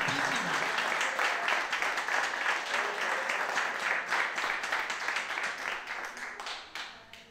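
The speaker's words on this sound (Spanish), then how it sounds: "Le damos un aplauso a Dios, a Jesús, a María Santísima" A congregation at a religious gathering claps together in sustained, steady applause that carries on for several seconds before gradually thinning out, with a voice faintly under it.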